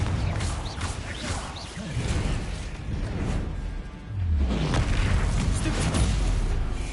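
Fiery Confringo spell blasts in the Hogwarts Legacy video game, a run of booming bursts and whooshes that swell in a dense, loud wash, strongest in the second half.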